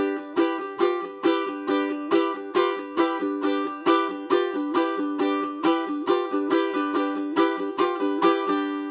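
A ukulele strums a steady, bouncy blues-rock rhythm, quick regular strokes with a shuffling feel, bright and close.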